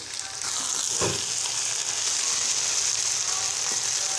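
Onions and tomato frying with salt in a hot pan, a loud continuous close sizzle with a brief scrape of mixing near the start, no talking.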